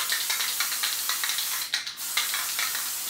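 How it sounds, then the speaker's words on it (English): Short bursts of spray glue hiss, repeated in quick pulses with a brief pause midway, fairly close and loud. "I'm going to give it a little bit of spray glue"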